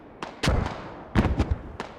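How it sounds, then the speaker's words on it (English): Explosions in the Squad military shooter during a competitive match, several sharp booming blasts in quick succession, loud and close, with irregular spacing and short decaying tails. "Oh boy, look at all these explosions."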